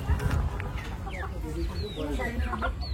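Chickens cluck at a busy village market in Dhaka, several birds calling in short bursts close by, mixed with people talking and crowd bustle throughout.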